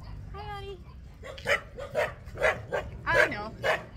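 A dog gives a string of short, close barks and yips at a village with many puppies around, preceded by a brief whine, each bark sharp and separate over light background noise.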